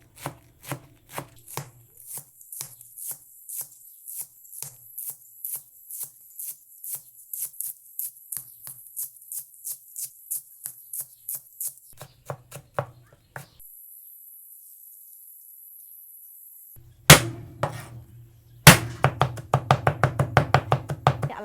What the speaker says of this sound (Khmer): ឥឡូវនេះគឺខ្ញុំចាប់ផ្ដើមមកហាន់ស្លឹកគូឆាយយើងស្លឹកគូឆាយនេះគឺយើងត្រូវហាន់វាល្អិត